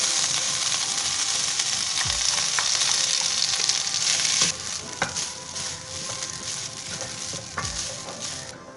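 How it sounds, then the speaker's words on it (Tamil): Grated coconut sautéing in ghee for coconut burfi gives a steady, close sizzle and frying hiss, with scraping stirs and a few sharper clicks of a spoon against the pan throughout. "இப்போ இந்த நெய்யில நம்ம எடுத்து வச்சிருக்கிற தேங்காயை ஆட் பண்ணிக்கலாம். தேங்காயை ஃபர்ஸ்ட் கொஞ்சம் வதக்கிக்கலாம்."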